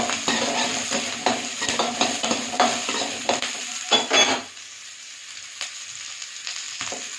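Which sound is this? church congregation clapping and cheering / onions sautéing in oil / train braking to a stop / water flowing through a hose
onions sautéing in oil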